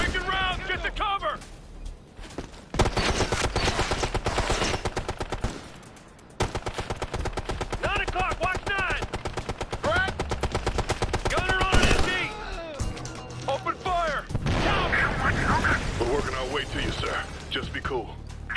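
Ghost Recon: Future Soldier firefight, with rapid automatic rifle bursts rattling almost continuously and loud, while several voices shout and talk over the shooting throughout.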